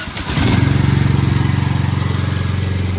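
Manta Beast flush machine engine starting and settling into a steady, low throbbing run at 1,400 RPM, loud and close with an even pulsing rhythm.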